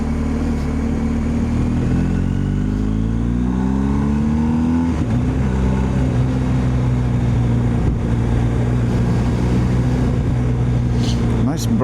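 A 2024 BMW R1250 GS Adventure motorcycle with an auto blipper, its boxer engine revving up and down through shifts at close range, loud and steady, with a voice heard faintly over it.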